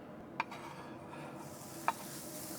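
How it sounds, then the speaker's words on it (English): Bacon and sausage sizzle steadily on a Blackstone 22-inch XL griddle, a soft continuous hiss with two sharp scraping clicks of a spatula. "I'm gonna throw down the bacon and the sausage first."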